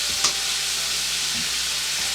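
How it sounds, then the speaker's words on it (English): Pork pieces brown in a pan for Hawaiian pork and peas, a steady, close, loud sizzle with a brief clink near the start and no talking. "we'll just try to make sure these are browned on each side"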